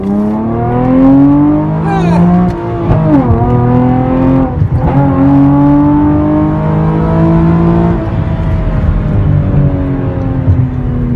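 A Chevrolet Camaro with a free-flow exhaust revs hard and loud up close, the engine note climbing and dropping through several throttle blips before settling into a sustained roar, with a voice faintly beneath.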